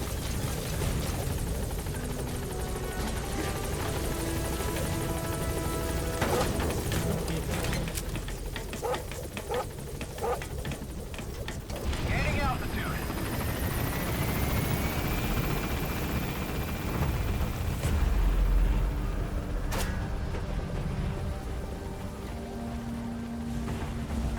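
Support helicopter arriving in Metal Gear Solid V: The Phantom Pain, a steady rotor drone and engine roar running throughout under game effects and bursts of noise, loud and close.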